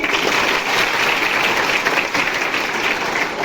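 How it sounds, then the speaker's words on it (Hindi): Children clap together in a room during a talk by a women's helpline organisation, a loud, dense, steady burst of applause sustained from start to finish with no voices over it. "बजाओ ताली"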